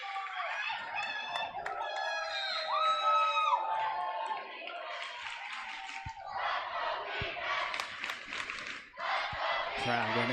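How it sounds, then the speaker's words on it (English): A home crowd at a Stansbury boys' high school basketball game against Bear River cheers and whoops loudly and steadily throughout, with shouts rising above the roar and a voice talking over it. "Crowd getting into it here is Stansbury"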